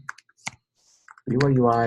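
Several quick, light clicks of keys on a computer keyboard as a web address is typed, sparse and close, then a voice begins speaking over the end.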